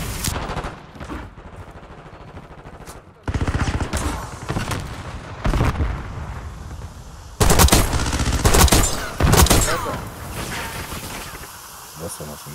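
Bursts of automatic gunfire from the shooter game Black Ops 6 ring out in loud clusters, split by quieter stretches with game sounds and someone talking.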